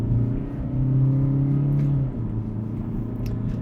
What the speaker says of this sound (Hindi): तो पहले कार को अब लॉन्च करते हैं